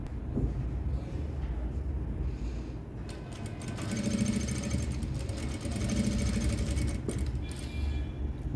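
Sewing machine stitching the edge of a blouse with thread piping, a steady, fairly loud mechanical whirr with a fast rattling rhythm that rises and falls in bursts and runs without speech.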